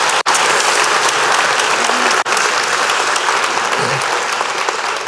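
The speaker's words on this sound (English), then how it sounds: "So let's have a round of applause." Sustained applause from a conference audience at a closing keynote, dense and loud throughout with steady clapping, no voices over it.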